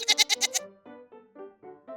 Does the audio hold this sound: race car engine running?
no